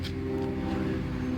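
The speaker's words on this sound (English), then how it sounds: "I hadn't heard a plane in hours till I started this video" An airplane drones overhead at a distance, a steady low hum with a faint tonal whine, continuous throughout with no speech.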